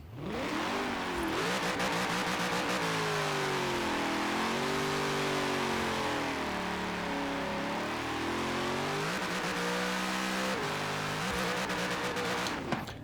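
A Cadillac CTS-V with a supercharged engine on a drift build in Forza Horizon 4, revving hard and loud without a break, its pitch rising and falling through repeated gear changes and burnouts.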